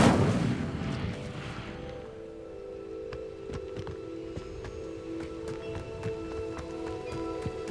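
Incendio fire spell cast in Hogwarts Legacy: a loud whooshing, crackling burst at the start that dies away over two seconds, followed by quieter scattered clicks and ticks.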